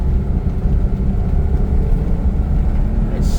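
A Daihatsu Hijet deck van's engine drones loud and steady from inside the cab while driving in third gear at about 50 km/h, a continuous low rumble with no talking.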